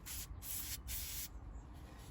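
Three quick hissing bursts of cleaner sprayed onto a tissue during BMW E90 318i valve cover gasket work, close and crisp, followed by a faint rustle.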